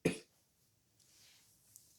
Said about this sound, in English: Apparently, I still have a cough.